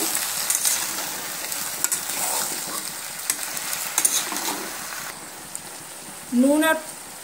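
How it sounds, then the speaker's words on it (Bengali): Pumpkin and malabar spinach with salt are stirred in a frying pan, a steady crackling sizzle with scraping strokes of the spatula, ending in a short squeaky scrape. "নুনটা দিয়ে আবারও আমি সুন্দরভাবে এইভাবে নেড়ে চেড়ে নিচ্ছি"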